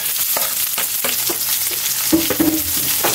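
Ginger, onion and garlic sauté in a hot pan for tinolang manok, a close steady sizzle with the scrape and clatter of stirring.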